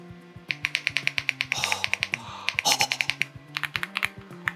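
Rapid, steady keystrokes on an AULA F75 mechanical keyboard, each press a crisp, close clack, with a brief flurry of faster, blurred strokes partway through and no talking.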